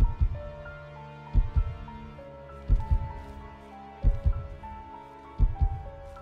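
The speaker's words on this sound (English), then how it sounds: "I can hear her heart beating" Video game heartbeat effect in Octopath Traveler: deep, thudding double beats repeat roughly every one and a half seconds over a sustained musical drone, with no voices.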